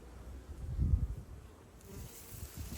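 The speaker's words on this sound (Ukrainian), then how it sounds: "Бджілка літає, виходить на прилітну доску." Faint buzzing of honeybees at a hive entrance drifts around a quiet outdoor spot in October, a low hum rising and falling in soft bursts.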